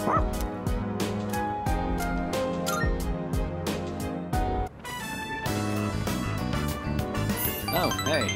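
Dog barking in Persona 3 Reload, a few yips and barks heard under continuous game music with rhythmic beats throughout.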